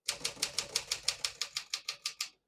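Keys strike steadily on a 1957 Smith-Corona Silent-Super portable typewriter, about a dozen crisp, evenly spaced clacks close up, set to single spacing, with no talk.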